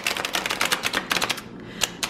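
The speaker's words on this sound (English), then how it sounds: "I always usually do a couple shuffles to get started" A tarot card deck is shuffled in quick riffling bursts of crisp clicks, with a short pause midway before a few more flutters.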